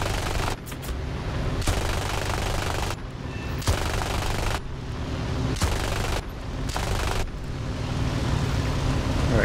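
Aircraft gunfire in War Thunder air realistic battles, flown in a D.371 fighter. Several sharp bursts of rapid fire cut through a constant loud engine drone, spaced irregularly over several seconds.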